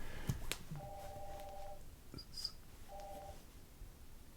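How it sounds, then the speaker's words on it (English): A telephone rings faintly in the background, two electronic ring bursts about two seconds apart, each about a second long, with a short beep between them and no talk. "Sorry about that for that phone ring"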